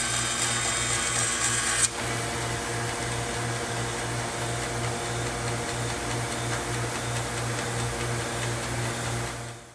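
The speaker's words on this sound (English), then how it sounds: "We simply just let it run and chop away through the wood." A bandsaw resaws wood into thin sheets with a steady mechanical hum and a pulsing low drone that runs throughout, while the higher cutting noise changes abruptly about two seconds in.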